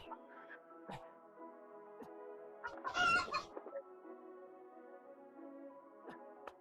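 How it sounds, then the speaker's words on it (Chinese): Two large farm-raised roosters cluck repeatedly, with a louder crowing burst in the middle, close and clear with no talking. "这2只大公鸡都是现代人工饲料鸡，长得能不好看吗？"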